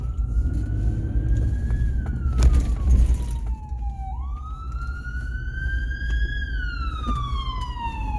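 An ambulance siren wails in slow rising and falling sweeps as the vehicle passes on a city street, fairly loud over steady traffic rumble, with a brief burst of road noise midway.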